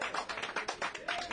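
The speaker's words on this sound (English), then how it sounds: "A round of applause there for the dealer." A small group applauds a dealer at a poker game, a quick run of close, uneven claps that rise and fall.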